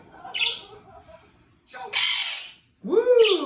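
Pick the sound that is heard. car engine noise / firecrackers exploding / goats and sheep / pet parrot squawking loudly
pet parrot squawking loudly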